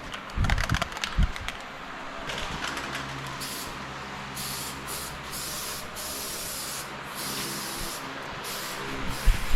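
An aerosol texture coating is sprayed onto interior plastic trim of a car during a restoration. Steady, close hissing spray comes in several long passes with brief gaps, preceded by a few clattering handling noises.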